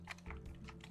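A brief, faint burst of keyboard typing on a computer, a few soft close key taps over low background hum, without talk.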